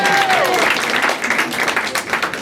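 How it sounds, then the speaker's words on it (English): Comedy club audience applauding at the DC Improv, dense steady clapping close up with a few faint tones at the start, fading slightly toward the end. "round of applause for coming out tonight."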